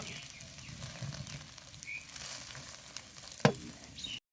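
Egg paratha frying in a pan: a soft, steady sizzle runs throughout, faint and close, with a sharp clink or scrape near the end and no voices.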